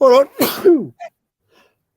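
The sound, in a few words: sneeze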